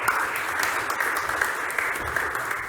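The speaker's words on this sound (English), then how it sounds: "Please give a round of applause." Applause from an audience greeting a speaker at a roundtable event on athletes' career transitions, a continuous, even patter of many hands clapping, fairly close and loud, with no talk over it.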